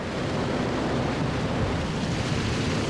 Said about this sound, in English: the joy is short-lived as the waves suddenly turn fierce